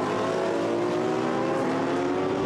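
GT race cars of the Blancpain GT Sports Club at Hungary roar past together in a continuous dense, high-pitched engine wail, loud and unbroken throughout.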